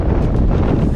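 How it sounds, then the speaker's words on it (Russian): Strong, furious mountain wind battering the microphone in a loud, continuous roar with rumbling gusts throughout. "ветер бешеный просто"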